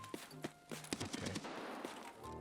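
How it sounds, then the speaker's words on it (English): Gunfire in Escape from Tarkov on the Streets map: a run of sharp shots, some single and some in quick clusters, with a low tonal hum behind them and no talk. "He was shooting me."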